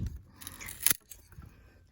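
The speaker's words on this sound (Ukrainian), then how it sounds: "Бачите, який вузол? Теж зараз обрізаю." A single crisp snip of garden shears cutting through a rose bush stem, up close, between rustling of leaves and branches.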